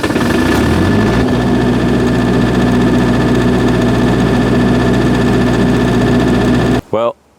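An MEP 803A diesel generator cranks, catches and settles into a loud, steady close-up idle with a constant engine hum, cutting out briefly near the end.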